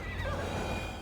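A horse neighs in the Assassin's Creed Valhalla video game, one continuous whinny over steady background noise, moderately faint with no talk.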